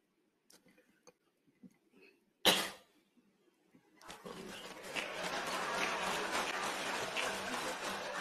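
The president gives a single sharp cough during a speech at a Partai Bulan Bintang party gathering. Quiet ticking comes before it, and a steady wash of crowd noise follows.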